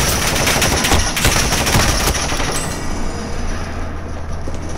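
Rapid automatic gunfire in a video game, loud bursts of shots in the first half that trail off into a lingering low hum.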